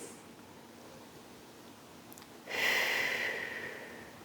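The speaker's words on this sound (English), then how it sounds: "Let's take 2 deep breaths." A long deep breath, with a soft airy inhale building into a louder whooshing exhale near the microphone, taken while holding a seated Pilates twist with small dumbbells.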